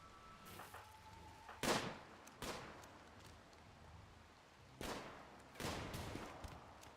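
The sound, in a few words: rifle sniping gunfire in the video game RimWorld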